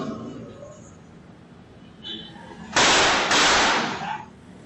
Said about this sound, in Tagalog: Dalawang putok ng baril ang umalingaw-ngaw sa bahagi ng Zapote Street, Barangay Olympia, Makati City